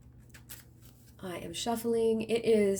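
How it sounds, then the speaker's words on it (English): Soft papery riffling of tarot cards being shuffled, a few quick brushing flicks, then a person begins talking over it. "So I am shuffling."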